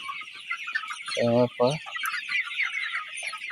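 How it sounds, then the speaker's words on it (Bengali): Chickens crowd a poultry shed of golden (Sonali) birds, giving a constant chorus of clucks with one loud close squawk, while someone speaks briefly over them. "দেখেন মুরগি সারা জায়গায় মুরগি।"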